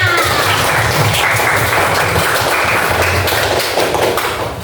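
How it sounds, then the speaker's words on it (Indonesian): Steady applause from a group, clapping continuously for several seconds before beginning to fade at the end. "Tepuk tangan buat Hana."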